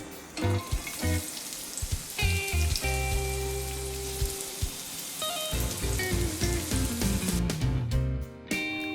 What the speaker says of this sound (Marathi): तव्यावर 1 चमचा तेल घ्या, त्यात 3 उभे चिरलेले कांदे टाकून भाजून घ्या